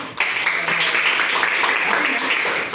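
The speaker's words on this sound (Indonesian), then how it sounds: "jadi semuanya semangat ya, tepuk tangan dulu" Pupils clap together in a classroom during a microteaching lesson, producing a dense, fairly loud burst of clapping that holds steady for a few seconds.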